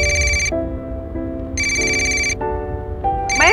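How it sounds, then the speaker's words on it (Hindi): A phone ringtone plays a bright electronic melody of repeated tonal phrases, loud and close, continuing through the whole stretch with no one speaking over it. "मैम, तुम्हारा फोन आ रहा है।"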